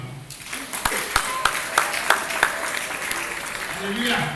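A church congregation claps during a ceremony installing assistant preachers: a run of evenly spaced, fairly distinct claps, then softer scattered applause with murmuring voices.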